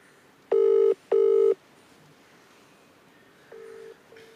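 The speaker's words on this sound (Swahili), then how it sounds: "Nampigia WhatsApp. Ina ring." A WhatsApp call ringing on a phone: two loud close repeated ring tones in a steady pattern, then quieter shorter tones, with no talk over them.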